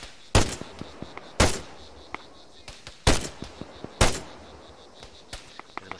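Gunfire in Arma 3, sharp loud rifle cracks spaced irregularly with a few quieter distant shots between, echoing through trees in a recon firefight.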